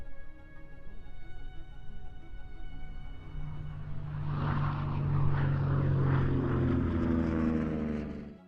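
P-47 Thunderbolt WWII fighter-bomber aircraft engine, a droning propeller hum that swells louder and rougher midway as the plane passes close, then holds steady.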